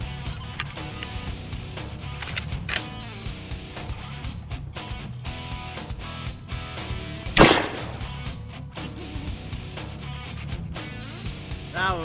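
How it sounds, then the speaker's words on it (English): A 12 gauge semi-automatic shotgun fires one sharp blast midway, cutting through a dense, loud background of music-like tones. "we're going to go ahead and use the 12 gauge semi-automatic shotgun"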